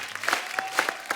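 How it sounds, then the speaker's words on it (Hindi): A television studio audience gives a short burst of scattered claps for actor Pankaj Kapur, with a few distinct hand claps standing out. "जोरदार तालियां एक बार पंकज सर के लिए"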